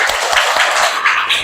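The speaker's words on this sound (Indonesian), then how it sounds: "Ya, kasih tepuk tangan untuk kita semua." A classroom of students claps hands together in a quick burst of irregular, close claps with a brief rhythmic patter.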